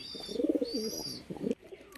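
A newly bought pair of Kaldoma pigeons in a cage give several close, soft throaty coos in quick succession, then a brief pause and a last short burst, with no talking.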